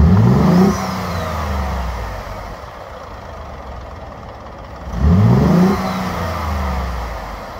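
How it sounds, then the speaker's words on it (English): A Ford F-150 EcoBoost engine revs twice, each rise swelling sharply then settling back to a steady idle drone, with a faint turbo blow-off whoosh after the revs. "Yeah, you can hear the blow off a little bit."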